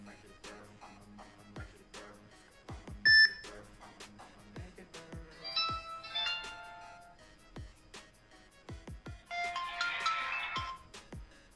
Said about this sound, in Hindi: ये इसकी ओरिजिनल रिंगटोन है, रिंगटोन 1 अच्छी है